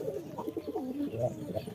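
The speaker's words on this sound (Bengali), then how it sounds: "দেখেন কবুতরগুলো তার বাচ্চাগুলোকে কিভাবে খাওয়াচ্ছে।" Pigeons in a loft coo in low, rolling, repeated phrases while feeding their chicks, close and continuous with no pauses.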